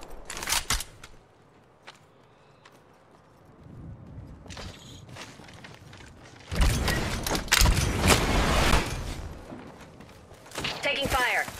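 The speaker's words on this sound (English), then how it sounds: "Taking fire." Incoming gunfire in Apex Legends, with scattered sharp shots early on, then heavy sustained bursts and impacts close by, mixed with footsteps and mechanical game sounds.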